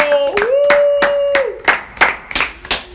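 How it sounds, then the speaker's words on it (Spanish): A small group claps in quick bursts, close and loud, with a short voiced cry over the first half. "¡Aplauso!"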